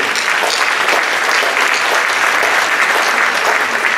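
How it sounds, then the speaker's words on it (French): Loud, dense applause from a large gathering at a mayor's New Year address, saluting an unbeaten football team ahead of its Coupe de France round-of-32 match against LOSC, sustained and even throughout. "Bien sûr, on peut les applaudir."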